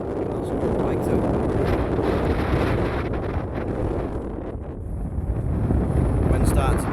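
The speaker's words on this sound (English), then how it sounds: "Wind's starting to pick up" Strong wind buffets a hilltop on a Lake District fell after the clouds clear, a loud, steady rushing roar with gusts that swell and ease, close to the microphone, while a person talks over it.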